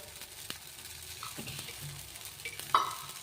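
Oil sizzles and crackles on a hot tava under a cover while masala gul pangala cooks, a steady soft frying hiss with a few small pops and one sharper clink near the end.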